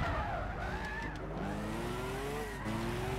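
Race cars in Gran Turismo 6 spin out with squealing, skidding tires over revving engines, the pitch sweeping up and down as the cars slide, loud and close.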